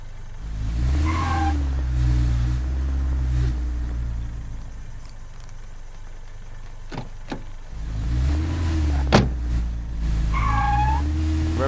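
A car engine in the State of Decay video game, revving and easing off in rising and falling waves with a lull in the middle before picking up again, fairly quiet and without speech.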